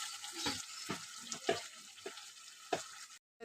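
Water poured into a sizzling pan of spicy shankar (stingray) fish curry masala, giving a steady close hiss broken by several sharp crackling bursts, then cutting to silence at the end.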